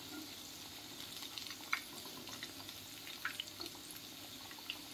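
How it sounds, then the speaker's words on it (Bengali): Cauliflower pakoras deep-frying in hot oil, a steady soft sizzle with scattered faint pops and crackles, quiet and continuous with no talking. "লাল করে ভাজা হয়ে গেছে, এবার আমি তুলে নিচ্ছি।"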